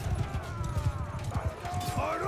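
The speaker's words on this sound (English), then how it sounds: "now we can give the charge command, and we'll pull our cav across their line" Cavalry horses charge across a battlefield in Mount & Blade II: Bannerlord, with rapid overlapping hoofbeats drumming close and loud, a whinny rising near the end, and a voice talking over the gallop.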